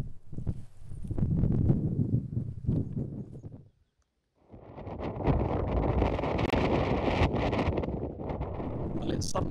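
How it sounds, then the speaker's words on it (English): Strong gusty wind buffets a microphone outdoors in the countryside, with a loud steady rush of noise that briefly drops out, then returns harder and more continuous to the end. "Suddenly got very, very windy."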